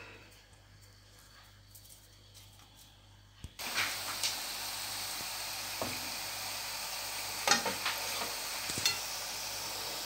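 Murukku, a South Indian festive snack of kneaded dough, frying in hot oil: quiet for the first few seconds, then a steady broadband sizzle rises and holds, with occasional sharper pops and clicks.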